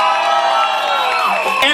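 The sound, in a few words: crowd applause and cheering for the neighbourhood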